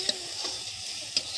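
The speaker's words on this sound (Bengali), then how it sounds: "মুগের ডালটা ভালোভাবে ভেজে নিচ্ছি।" Mung dal being fried in a pan at a family picnic cookout gives a soft, steady sizzle, with a few brief sharp scrapes of stirring standing out.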